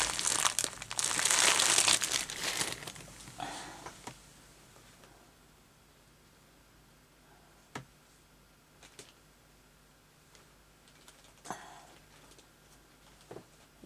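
Fabric is shoved back into a bag with a loud, close crinkling rustle for the first few seconds, then quieter sparse ticks and small handling noises follow.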